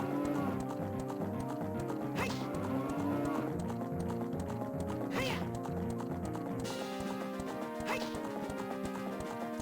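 Epona, the horse in Zelda: Ocarina of Time, clip-clops at a steady trot under game music, with a few soft neighs and a low cow-like moo that stand out now and then.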